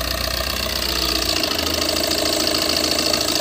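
A Tata Super Ace pickup truck's diesel engine runs with a steady, loud, close mechanical clatter and hum, its low rumble shifting slightly partway through, with no talking.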